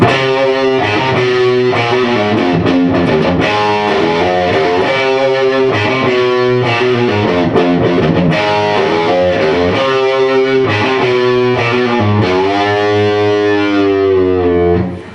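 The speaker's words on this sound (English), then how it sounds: "we got that volume all the way up, so we got our distortion" Loud distorted electric guitar on the bridge pickup, volume all the way up, playing a continuous riff with sustained chords and a bright, gritty tone, ringing out at the end.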